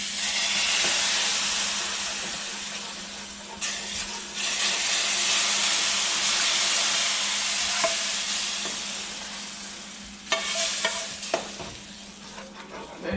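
Gravy goes little by little into a hot gumbo pot, giving a steady loud hiss and sizzle with spoon clinks and stirring, and the hiss flares again with each new pour.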